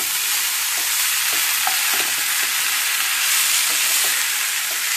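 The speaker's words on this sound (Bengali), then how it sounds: "ভালো করে মিক্সিং করে নাও" Crispy gobi and dry-roasted sesame seeds tossed together in a pan, a steady sizzle with repeated soft scraping stirs and no voices.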